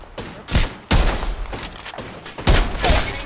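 Loud, close bursts of rapid gunfire from heirloom and gold guns in the Apex Legends battle royale video game, several volleys in quick succession with short gaps between them.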